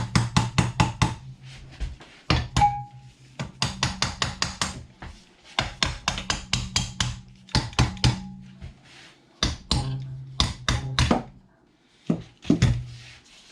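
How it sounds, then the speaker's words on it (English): A tool taps a split half VW ultralight engine to loosen a part, giving rapid bursts of loud, close metallic knocks, several quick strikes at a time, separated by brief pauses. "Now I need to tap this a little bit."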